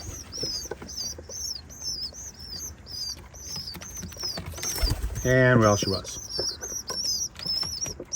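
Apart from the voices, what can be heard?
pigeon babies and mother pigeon in coop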